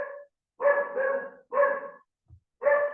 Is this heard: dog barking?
yes